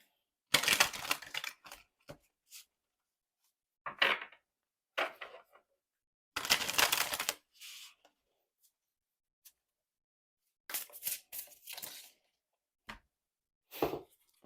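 Tarot cards being shuffled and drawn during a reading, heard as bursts of riffling and snapping card sounds with short taps and slides between them, close and alone with no talk.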